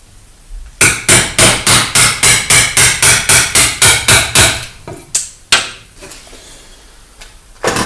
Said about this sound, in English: hammer and chisel, and just going to chisel out the ends